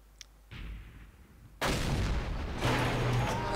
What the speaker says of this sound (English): I'm shooting at something there